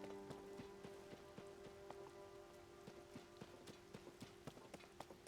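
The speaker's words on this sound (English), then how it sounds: "Oh, it's raining." Rain falls in the video game Zelda: Tears of the Kingdom, a faint, steady patter studded with regular sharp droplet ticks, heard on its own without talk.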